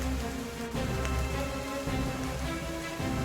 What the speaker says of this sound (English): It does sound like it's raining.